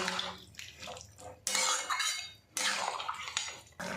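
Water poured from a container into a cooking pot of papaya and chana dal curry, a steady splashing gush in two bursts with brief pauses and light clinks of the pot.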